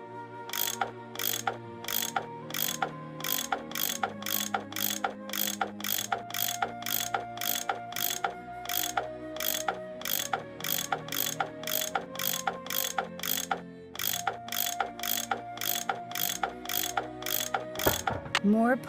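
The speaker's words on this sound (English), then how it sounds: "That tool I saw in the caboose, I bet that's what you use to unscrew these bolts." Repeated metallic ratcheting clicks of a tool unscrewing bolts in the Nancy Drew: Last Train to Blue Moon Canyon game, a steady rhythmic series of close, clear turns over a tonal music bed, with a heavier clank near the end.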